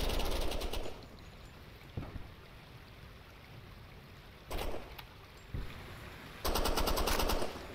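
Machine gun fire in the tactical shooter game Door Kickers 2 during a bridge assault, heard as rapid automatic bursts at the start, middle and end, with quieter ambient game noise between them and no speech.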